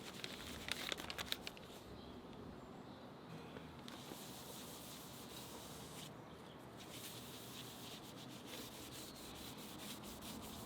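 A moist tissue rubs gently over the painted headstock of an Epiphone guitar, giving a soft, continuous close-up scrubbing hiss with a few brief crinkly bursts near the start.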